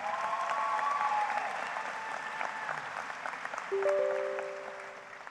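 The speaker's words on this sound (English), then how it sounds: "One more round of applause for their efforts." Sustained applause from a large crowd at a 2019 high school graduation ceremony, steady clapping that fills the space from start to finish, with a faint tone sounding near the end.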